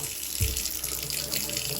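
Water runs from a leaking clawfoot tub faucet in a steady, close splashing stream, with a brief low thump near the start.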